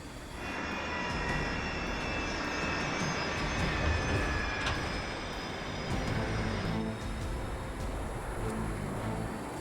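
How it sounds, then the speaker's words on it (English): Airliner jet engines slowing on landing, a broad continuous roar with whining high tones that shift and fade slightly as the aircraft decelerates, heard alone without talk. "So far, the plane is slowing."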